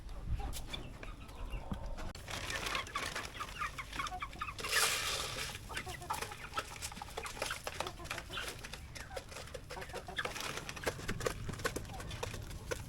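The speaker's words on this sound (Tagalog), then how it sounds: "Yan yung bird Plymouth Rock guys." Plymouth Rock chickens cluck softly on a farm, a faint, scattered flock sound with occasional louder calls and light background noise.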